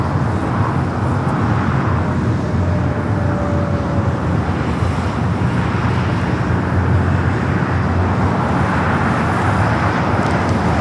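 A Boeing 787 Dreamliner airliner taxis in on the north side of Los Angeles International Airport toward Terminal 7, a loud, steady broadband engine roar that fills the whole stretch with no break and no talk.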